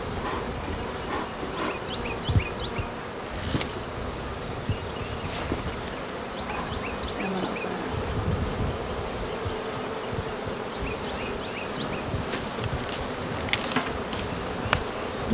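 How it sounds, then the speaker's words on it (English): Honeybees buzz around a frame of newly drawn comb lifted from a hive after a little smoke, a steady dense hum with individual bees zipping close by throughout. "Yeah, these bees, are really killing it."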